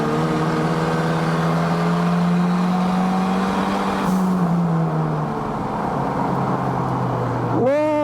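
A car engine pulls hard at high revs, a loud, close, sustained drone that rises in pitch, eases off midway and then surges again at the end.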